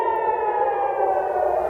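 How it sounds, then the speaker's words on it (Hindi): Air raid sirens wailing in Tel Aviv during a ballistic missile attack, a steady loud civil-defense tone holding a sustained pitch with faint harmonics, continuous throughout with no voices. "इसमें दावा किया गया कि सायरन बजने लगे तेल अवीव के अंदर जब बैलिस्टिक मिसाइल दागी गई।"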